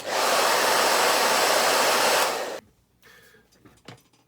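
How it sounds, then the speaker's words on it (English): An old hairdryer set to hot runs loud and steady at close range for over two seconds, then clicks off, leaving faint handling noises and small knocks. "Time to try the hairdryer treatment."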